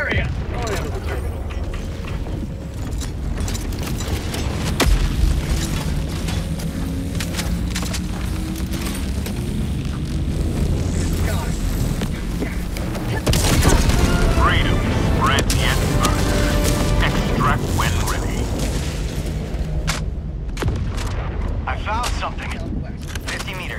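A Hellbomb detonates in the video game Helldivers 2, a loud, sustained rumbling blast swelling near the middle and lingering amid game mechanisms, gunfire-like cracks and voices talking over the action.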